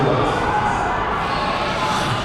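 Football crowd at an amateur men's league final reacting audibly after a throw-in call, a steady broad roar of many voices with scattered shouts, continuous and fairly loud throughout.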